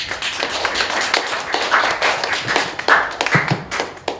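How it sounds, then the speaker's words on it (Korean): Audience at a youth seminar clapping after a presentation, with dense, steady applause from many hands at moderate distance, lasting the whole stretch with no voices over it. "다시 한번 큰 박수 부탁드립니다"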